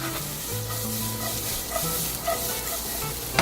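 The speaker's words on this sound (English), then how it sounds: "We're going to do our onions and garlic in. Let that saute a bit." Onions and garlic sauté in a pan as the base for a sauce, giving a steady close sizzle with soft stirring scrapes throughout and no talking.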